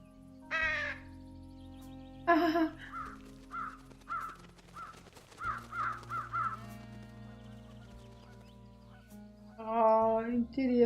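Birds cawing in the Truberbrook video game, a few harsh calls separated by quiet gaps, over a steady low hum of game ambience with faint, soft clicks in between.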